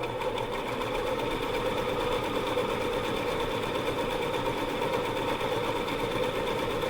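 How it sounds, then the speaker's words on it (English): Sewing machine stitching fabric under the presser foot, a steady rapid mechanical whir running continuously at moderate volume with no pauses and no talking. "put your fabric underneath your presser foot, drop your presser foot down, and then just sew however you want"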